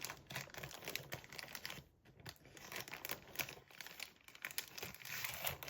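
Parcel packaging crinkling and tearing as it is pulled open, continuous close crumpling and rustling with sharper rips throughout.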